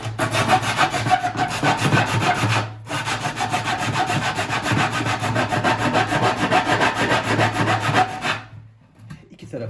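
Homemade sandpaper made on 1 mm sheet metal rubbing back and forth in steady, loud rasping strokes, pausing briefly once and stopping near the end.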